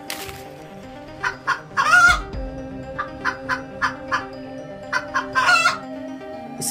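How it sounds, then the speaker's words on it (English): A hen on a farm clucks in short, repeated bursts, with a few louder cackling calls standing out against a quiet background and no voices. "Fantastic hen."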